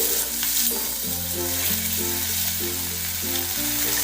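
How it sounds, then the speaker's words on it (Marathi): Coriander leaves and turmeric go into a hot oil tempering for a potato and green pea bhaji, giving a steady, close sizzle that runs throughout beneath sustained low tonal background music. "हळद टाकते आणि फोडणीमध्ये कोथिंबीर टाकते।"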